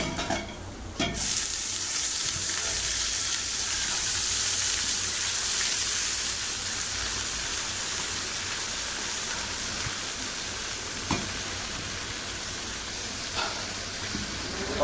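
Greens being added to a hot pan and stirred while preparing Odia dahi pakhala in a clay pot, giving a steady, loud broadband sizzle that holds throughout with a few sharper clicks of utensils, no voices.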